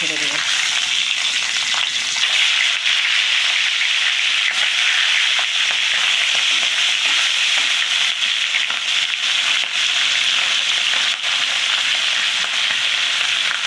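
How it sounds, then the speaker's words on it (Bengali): Tangra fish frying in mustard oil in a hot kadai, a loud, steady, dense sizzle that holds without pause throughout, with no voices over it. "সর্ষের তেল দিয়ে দেবো একটা একটা করে মাছ"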